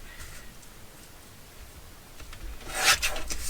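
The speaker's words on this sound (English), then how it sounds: "I'm going to use my trimmer." A paper trimmer slices through a sheet of paper during junk journal crafting, giving a soft rasping slide that builds to a brief, louder scraping cut near the end, close and quiet with no talking.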